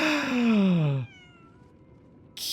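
A cat in the video game Lies of P gives one long, falling meow, followed by near silence and then a short burst of noise.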